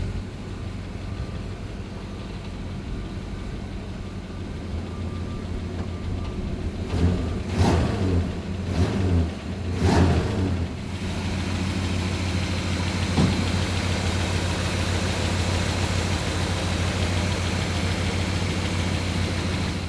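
A truck engine with a quieter exhaust idles with a low steady rumble, then revs in several short bursts before settling back to idle, loud and close.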